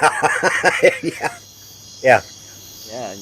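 Cricket chirping sound effect plays as a rhythmic series of quick, bright pulses, loud and close, then pauses before a single sharp chirp and a softer trill.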